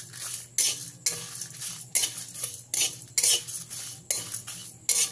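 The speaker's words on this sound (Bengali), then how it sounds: "এই মশলাগুলো দিয়ে ভালো করে ভেজে নেব।" Spices dry-roasting in a pan for a sweet raw mango pickle, a spatula scraping and clattering against the metal in repeated, rhythmic strokes, close and fairly loud, with only a light sizzle underneath.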